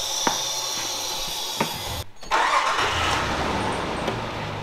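A supercharged car engine in a fabrication shop starts up after repair work. A short cranking break comes first, then a steady running roar holds at a fairly close distance.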